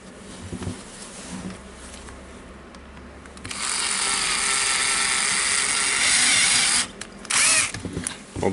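A high, whining power-tool buzz runs close and loud for a few seconds while a nut is fitted during a 1998 Makita cordless drill restoration, after some quieter handling noises and before short bursts at the end.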